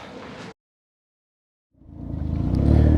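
Can-Am Ryker three-wheeler engine starting up and revving after a short silence, building from a low rumble into a loud, steady drone close by on a hot 86-degree day.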